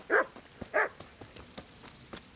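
Dogs barking in the medieval role-playing game Kingdom Come Deliverance, two sharp nearby barks followed by softer scattered yips and thumps, with no talk.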